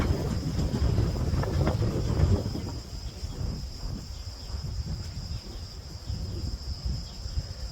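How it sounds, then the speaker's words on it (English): Low, rumbling wind buffeting a microphone, loudest early on then settling into a steady gusty roar with no voices. "Sorry about the wind, it's a little bit windy here today"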